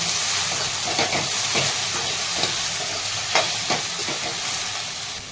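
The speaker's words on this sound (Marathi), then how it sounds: "आणि त्यामध्ये थोडी वाफलून घ्यायची भेंडी." Okra sizzles and sautés in hot oil in a pan, a steady loud frying hiss broken by occasional scrapes and stirs.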